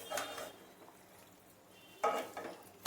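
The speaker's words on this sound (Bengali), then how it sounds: "ভালোভাবে কিন্তু নেড়ে এটাকে মিশিয়ে নিতে হবে" Chili chicken being stirred and mixed in a pan, a few quiet scraping clatters of a utensil against the pan separated by a soft sizzle, faint and close.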